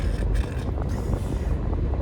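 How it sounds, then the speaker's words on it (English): Strong wind blows across a reservoir on a day of kayak fishing, a steady, loud rushing roar buffeting the microphone with gusty swells throughout. "Way too windy."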